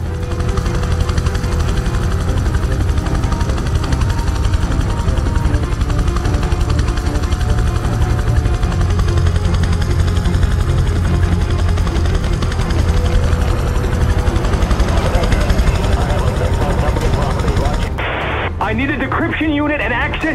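A helicopter in the video game Prototype 2 comes in toward a helipad, rotor and engine roaring loudly and steadily beneath radio chatter and game audio, before cutting off abruptly near the end.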